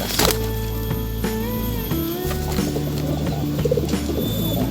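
A racing pigeon coos repeatedly just after being let out of its loft, soft rolling calls repeating over a steady background hum, with no talking.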